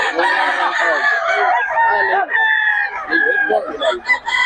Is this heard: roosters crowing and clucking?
yes